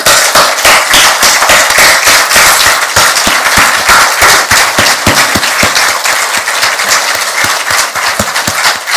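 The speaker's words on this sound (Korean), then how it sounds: "김 회장에게 기립박수를 보낼 것을 제의합니다" Standing ovation for Chairman Kim at a formal gathering: dense, loud, sustained clapping from a large crowd for the full span, with sharp individual claps cutting through steadily and no voices.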